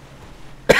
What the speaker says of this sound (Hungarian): Néha köhögni fogok.